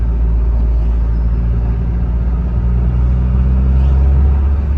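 A Nissan S15 Silvia Spec R cruises on the road, a loud, constant low engine drone and road rumble heard from inside the car with no change in pace.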